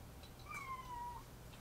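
A cat gives a single soft, drawn-out meow in a quiet indoor room, faint and alone over low background hum.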